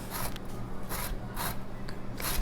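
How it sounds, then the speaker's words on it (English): Orange being zested on a grater's blades, a soft repeated rasping scrape in about five strokes, close and quiet over a low steady background hum. "Then just carefully run it down onto the blades, spinning it."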